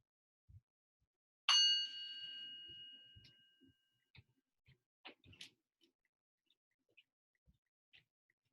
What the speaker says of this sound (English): I'm going to play the sound of a bell. Let's follow that sound all the way to the end